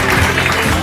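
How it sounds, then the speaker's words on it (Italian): An audience applauds a contestant at the Miss Grand Prix 2016 beauty pageant in Sottomarina, a brief, close, dense wash of clapping that stays loud and even for the whole moment. "un applauso."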